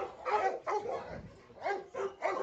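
Labradors at a large kennel bark and yip in several short bursts, some whimpering mixed in, moderately close and fairly faint.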